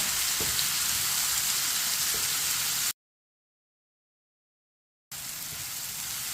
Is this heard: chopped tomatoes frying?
yes